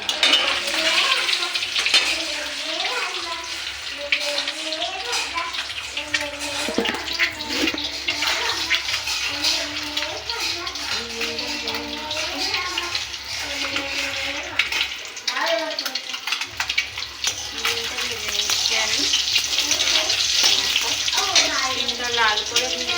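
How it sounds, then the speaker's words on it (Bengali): Eggs frying in a pan, a loud continuous sizzle and crackle close by with stirring and scraping throughout, while a person talks over it. "লাল করে ভেজে নেব, ডিমটা একদম লাল করে ভেজে তুলব।"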